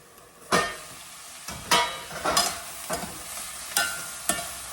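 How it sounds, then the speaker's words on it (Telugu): Steel utensils clatter nearby: a steel ladle knocks and scrapes against a steel pan about seven times at an uneven pace, with a soft sizzle of onion and snake gourd frying between strikes. "స్టీలు గిన్నెలు స్టీల్ పళ్ళెం స్టీలు పె పెనం స్టీల్ గరిట టకాటక శబ్దాలు ఎక్కువ అవుతున్నాయి"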